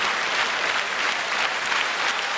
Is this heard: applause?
yes